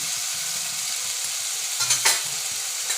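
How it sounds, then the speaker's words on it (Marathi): Tomatoes and onions fry in a pan for upma, giving a close, steady sizzle with soft stirring scrapes and a brief louder spatter near the end, without any talking. "आता त्याच्यामध्ये टॅमॅटो टाकले जात आहे टॅमॅटोसुद्धा थोडं शिजवलं जाईल"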